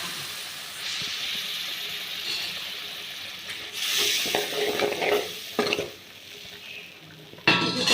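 Tamarind water is poured into a pot of sambar and stirred, with sizzling and hissing from hot oil, scraping and clinking of a spoon against the pot, and a louder splash and stir toward the end.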